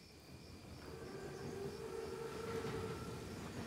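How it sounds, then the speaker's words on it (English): An armored train approaching in the video game Call of Duty WWII, set in wartime France: a low rumbling rise with a sustained tonal drone and faint whistle-like tones, moderately distant and gradually growing louder. "Train's right on time."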